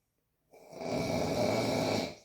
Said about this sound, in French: Ronfle à l'aise quand tu mérites le ronflement.